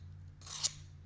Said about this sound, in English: along this flat edge here, you can go ahead and run your tool along it once or twice